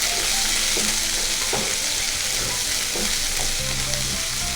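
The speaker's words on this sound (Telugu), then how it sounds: "ఆవాలు జీలకర్ర వేగిన తర్వాత ఒక ఉల్లిపాయని ముక్కలు చేసుకొని వేసుకోవాలి" Chopped onion hitting hot oil already popping with mustard seeds and cumin gives a loud, steady, dense sizzle with a few soft stirring knocks.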